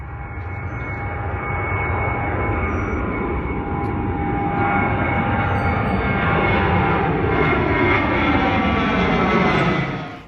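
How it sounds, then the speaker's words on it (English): Airplanes coming in to land near Gravity Park beside an airport, a loud, steady jet roar that swells and holds for several seconds before fading at the end, heard alone without talk. "you can see the planes either coming in or landing"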